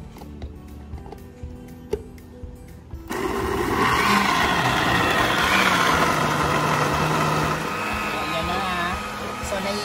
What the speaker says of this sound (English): Alright, then, blender lang natin.